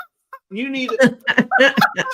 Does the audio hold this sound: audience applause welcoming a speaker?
no